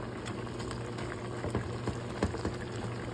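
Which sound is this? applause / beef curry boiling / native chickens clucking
beef curry boiling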